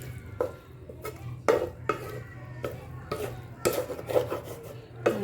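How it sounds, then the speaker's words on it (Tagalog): Sliced bitter gourd (ampalaya) and beaten eggs are stirred in a pan with a utensil, making repeated scraping, rasping strokes and clinks against the metal in an irregular rhythm over a faint low sizzle. "I-mix natin kasi may itlog na eh. Para pantay siyang maluto."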